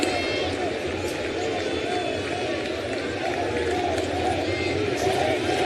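A crowd of about 41,000 at Citi Field in Queens during the ninth inning of a Padres–Mets baseball game, a steady roar of murmuring and cheering throughout, with a commentator's voice faint underneath.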